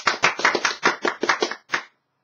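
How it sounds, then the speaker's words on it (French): A small group applauds themselves at the start of a French live Mega Bloks building session: about eight brisk, close claps in an uneven run, then a short pause and one last clap before silence. "on a le droit de s'applaudir"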